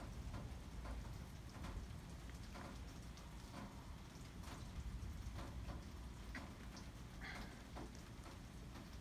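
Rain pours steadily on surfaces during a very large, almost dangerous thunderstorm, a dense continuous patter heard throughout at moderate level, with faint thunder rumbling beneath and no voices.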